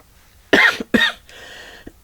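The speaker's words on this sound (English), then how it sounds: "Excuse my cough." Two sharp, close coughs in quick succession, followed by a faint rasp of breath.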